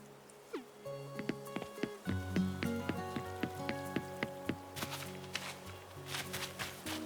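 Rain falling in Animal Crossing: New Horizons, a steady soft hiss beneath a cheerful in-game musical tune with repeated plucked notes and light tapping footsteps throughout.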